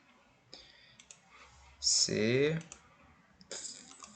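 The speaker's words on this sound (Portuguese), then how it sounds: "Aqui a gente clica nos 3 pontinhos, área de trabalho, Nathan, que é a pasta, né?" A computer mouse clicks a few times, quietly and close, as someone navigates software menus, with a person talking between the clicks.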